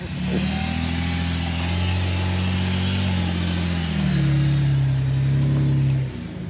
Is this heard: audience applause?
no